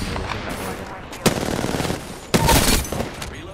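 Automatic gunfire in Apex Legends crackles in close, loud bursts, with sharp onsets near the start of each volley and a brief lull between them, game noise and a voice underneath.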